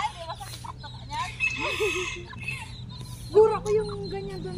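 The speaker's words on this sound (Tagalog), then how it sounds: "Ang liit naman ng manok na yan." A small chicken clucks in short, pitched calls near the mic, with a couple of louder squawks toward the end, while people talk over a low background hum.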